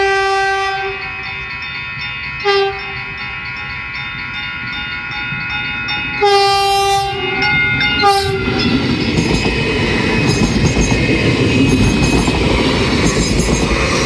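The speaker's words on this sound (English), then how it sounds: "That very sound like a express train." An express train approaches a road crossing, sounding several loud horn blasts in short and longer bursts, then roars past with rushing wheel noise and rattling that builds and stays loud to the end.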